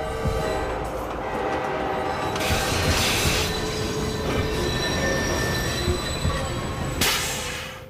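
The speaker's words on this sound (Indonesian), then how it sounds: "terdengar suara klakson kereta api yang akan melintas di jalur tersebut" A train passing close by on the rails, loud rumbling wheels with sustained metallic squealing, and brief horn-like bursts near the start and end.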